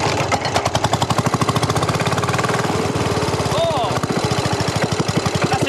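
The petrol engine of an old wartime-era farm machine sputters into life, giving a loud, rapid rhythmic chugging that holds steady throughout, with a person speaking beneath it.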